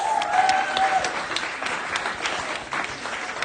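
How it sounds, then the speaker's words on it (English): An audience at a luxury catwalk evening claps for the event host, a moderate, fairly distant patter of applause that stays steady for a few seconds. "She needs the biggest round of applause."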